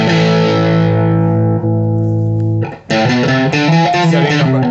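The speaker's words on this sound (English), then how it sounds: "And this is on crunch." A distorted electric guitar through an amp on its crunch setting: a sustained chord rings and slowly decays, then a fresh burst of loud, close strummed and picked notes with a gritty edge.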